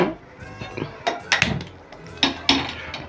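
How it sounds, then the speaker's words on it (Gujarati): Metal kadhai (wok) set down on a gas stove, a few sharp clanks and scrapes of metal on the burner grate, close and distinct, over quiet room noise. "કઢાઈ મૂકી દીધી છે ગેસ પર"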